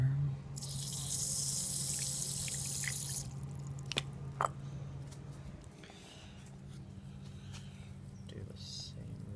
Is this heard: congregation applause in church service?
no